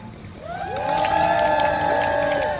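Crowd at a protest rally cheering, whooping and applauding, rising after half a second and holding loud and dense to the end, with sustained shouted tones.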